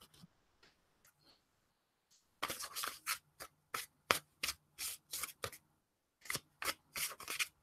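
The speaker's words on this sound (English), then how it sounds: "give it a really good shuffle." A tarot card deck printed on cardstock is shuffled by hand: a few faint rustles, then a run of close, crisp riffling bursts in a quick, uneven rhythm with short pauses between them.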